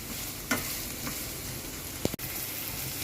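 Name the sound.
onions frying in oil in a pan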